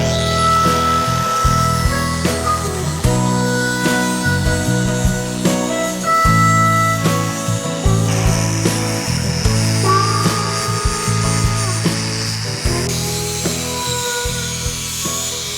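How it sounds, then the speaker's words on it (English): An angle grinder works over a stripped steel truck axle tube, moving up and down as it smooths the metal, a loud continuous rasping whine with repeated pulses as the tool presses and lifts, with no talk. "Grind with the axle tube going up and down"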